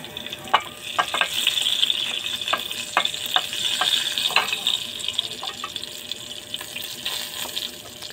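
Garlic frying in a pan crackles and sizzles close by, with frequent sharp clicks and scrapes of stirring scattered through a steady hiss, and no one talking.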